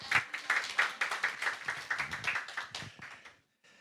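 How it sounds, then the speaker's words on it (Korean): A church congregation claps to welcome a pastor at an anniversary thanksgiving service, brisk rhythmic clapping close and fairly loud for about three seconds before stopping abruptly. "우리 다 함께 박수로 우리 환영하며 모시도록 하겠습니다"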